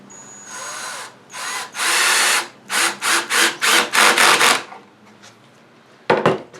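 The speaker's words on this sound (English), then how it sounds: "Make sure you set your drill to a low torque. This goes in like this." A power drill set to low torque whirs in a series of short, loud bursts, pausing between each as it drives a screw into a Kreg K4 pocket-hole joint, with a brief final burst after a gap.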